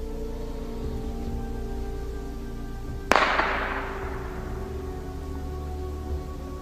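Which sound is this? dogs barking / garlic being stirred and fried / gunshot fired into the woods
gunshot fired into the woods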